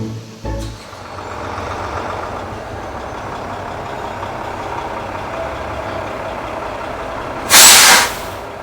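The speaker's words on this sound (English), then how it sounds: "trucks arrive from the Blind River refinery" A truck arriving at a uranium conversion facility on Lake Ontario idles with a low engine rumble, a short air-brake hiss near the start, and a louder, sharp release of brake air near the end.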